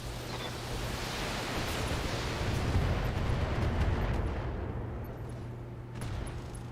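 Mech weapons fire in the BattleTech game MegaMek, a dense, continuous roar of blasts and rumbling explosions that swells in the middle and then eases slightly, loud and sustained with no gaps.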